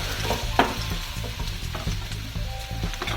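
Chopped ginger, garlic and green chilli sautéing in a pan, giving a steady soft sizzle with light stirring and scraping, close and continuous, with no voices.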